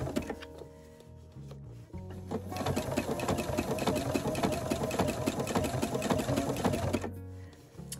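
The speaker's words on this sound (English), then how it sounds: "my mock applique stitch, is stitching on the quilt and just nipping into the binding" A sewing machine with a regular foot runs a mock applique stitch along a quilt, catching the edge of the binding. It starts in short bursts, then hums steadily and loud at close range for several seconds before slowing and stopping.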